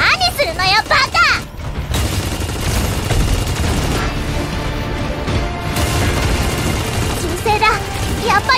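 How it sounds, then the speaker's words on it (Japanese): Gunfire in the mecha battle game Super Mecha Champions, a dense run of shots and booms mixed with game effects and music throughout, with voice chatter over the top. "銃声だ。 やっぱりこの近くだね。"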